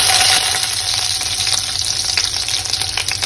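Chopped garlic sizzles in hot oil with whole spices like bay leaf, cardamom and black peppercorns, a steady loud crackling fry that holds without a break and has no talk over it.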